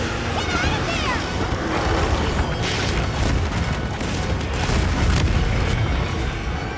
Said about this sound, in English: Explosions are real.